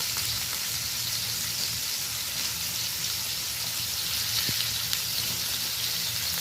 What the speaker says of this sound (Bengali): তেলটা মোটামুটি গরম হয়ে গেছে, এবার আমি আলুটা বেশ ভালো করে ভেজে নেব।